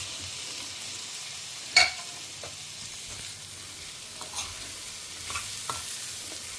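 Capsicum sautés in a pan with a soft, steady sizzle, broken by a sharp clank of a utensil and a few lighter scrapes as it is stirred, close and without talking.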